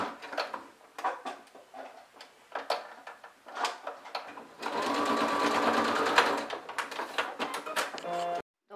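A sewing machine stitches a fabric travel bag in short bursts of whirring, then one long continuous run that stops abruptly, with close clicks and handling noises between.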